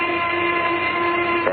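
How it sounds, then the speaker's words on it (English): A noon whistle sounds as one long, loud, steady tone with rich harmonics, held unbroken throughout, in an old radio drama setting. "There's the noon whistle."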